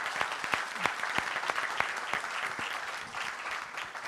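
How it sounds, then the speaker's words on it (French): Applause from an audience at a round-table session, dense and steady with sharp individual claps standing out, filling the whole stretch without speech. "Donc je demande un applaudissement."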